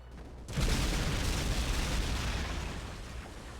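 Infantry battle in Company of Heroes: after a short quiet moment, a dense, loud wall of gunfire and rumbling blasts swells and holds, with no voices heard.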